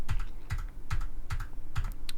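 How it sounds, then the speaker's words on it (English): Computer keyboard keys are pressed in a steady rhythm of about five clacks, each a double tap, close to the microphone over a low background hum. "anytime I hit 1 on my keyboard now, it pulses"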